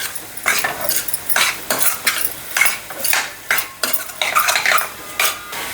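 A spoon scrapes and stirs a thick corn and jaggery laddu mixture in a pan, with repeated rhythmic clinks and scrapes against the metal, close and fairly loud with no voices.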